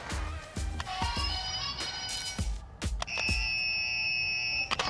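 Several short electronic buzzes and beeps sound one after another, then a sustained tonal buzzer tone rings out, with sharp thuds in between.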